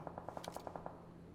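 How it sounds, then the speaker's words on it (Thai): Rapid automatic gunfire in PUBG Mobile, a quick burst of about nine evenly spaced shots at moderate distance, then the sound trails off. "ยังไงปล่อยเขายิงกันไปก่อน"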